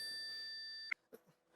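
A phone rings with a bright, sustained electronic tone that cuts off abruptly, followed by a couple of faint clicks and soft handling sounds in a quiet room.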